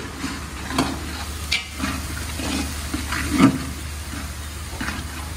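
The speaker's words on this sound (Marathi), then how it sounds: "आता आपण अद्रक आणि लसूण टाकून घेतलेलं आहे. त्याला जरा फ्राय करू." Chopped ginger and garlic fry in a pot for mutton biryani, a continuous close sizzle with occasional stirring scrapes and bursts over a low background hum, no voices.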